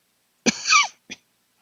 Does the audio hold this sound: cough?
yes